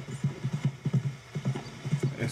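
A horse gallops in the Western video game Red Dead Redemption, its hooves beating a quick, steady rhythm of close, muffled thuds, moderately quiet and with no voices over them.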